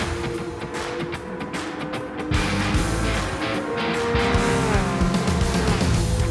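A race car in the Gran Turismo 7 World Series Nations Cup drives a last lap on track, its engine droning steadily with shifting pitch and faint tire noise, loud and continuous without talk.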